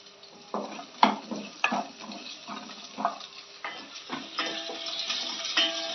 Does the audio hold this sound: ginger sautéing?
yes